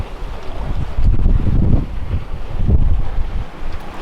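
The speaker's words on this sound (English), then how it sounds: "And we got about 26 knots of wind apparent." Strong wind of about 26 knots roars across the microphone aboard a sailing boat at sea, a steady loud buffeting with deeper gusty surges and a faint wash of water beneath.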